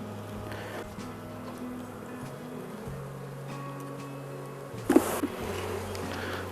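Honeybees drone in a steady low hum around beehive frames in an apiary after a cold snap, with a brief louder knock or rustle near the end.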